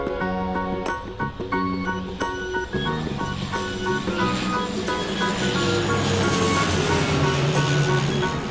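A toy airplane sound effect, with a buzzing, pulsing engine-like tone early on that gives way to a steady, building whoosh and roar.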